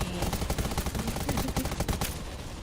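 Gunfire in the video game Undawn, a dense, continuous rattle of rapid shots throughout, loud and close with no pauses.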